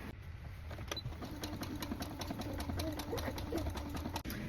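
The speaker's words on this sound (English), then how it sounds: "the last thing I have to do is just go and sew the surfboards onto the jacket" Sewing machine stitching surfboard patches onto a jacket, a steady, fairly faint rapid mechanical whir with a regular ticking rhythm running the whole time, no talking.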